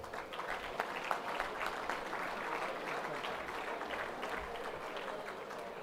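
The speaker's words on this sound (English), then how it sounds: "A round of applause." Steady applause from an awards-night audience at a football netball league medal event, dense clapping sustained evenly throughout at moderate level with no speech over it.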